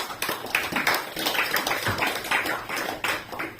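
A church congregation claps in praise of Jesus. The claps are loud, quick and uneven, with voices mixed in throughout.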